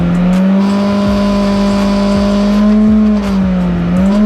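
A motorcycle engine drones steadily at high revs, loud and close, with a sustained deep hum and slight pitch wavering throughout.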